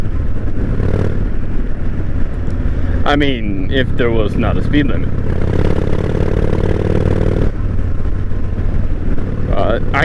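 A 1998 Honda Shadow 1100 cruiser motorcycle rides along the road at steady speed, its engine and wind rumble loud and continuous beneath a rider talking.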